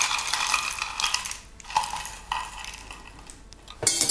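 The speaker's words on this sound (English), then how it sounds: "and then stir just to combine everything" A spoon stirring an iced vanilla latte rattles and clinks against ice and the glass in a few close, bright bursts separated by short quiet gaps, with no talking.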